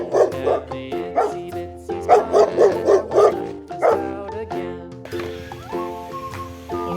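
A dog barks in quick, loud bursts, a run of short yips and woofs close by, then trails off into a softer whimper over background music.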